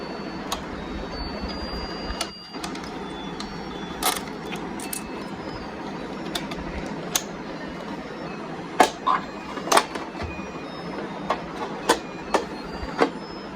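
A VHS tape rewinder runs with a steady mechanical whir, close and fairly loud, broken by a brief dip and a series of sharp clicks and clacks toward the end.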